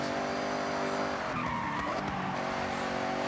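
A racing car in Forza Horizon 6 roars steadily at high revs, with a brief tire screech and skid partway through, loud and close with no talking.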